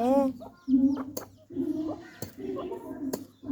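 Domestic hens clucking at home while being fed rice, short repeated clucks in irregular bursts with sharp taps and a person talking throughout.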